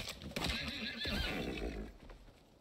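A horse in the video game Icarus gives a loud, close whinny that wavers for about a second and a half, then fades into low rumbling with no talk over it.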